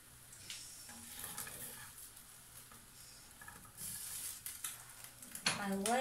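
Eggs frying in a pan at home: soft sizzling and crackling with brief scraping or stirring sounds, faint and intermittent, ending with a louder clatter.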